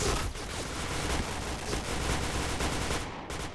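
Rapid continuous gunfire in the video game Point Blank rattles throughout, dense overlapping shots with no pause, loud and close, ending in a couple of final bursts.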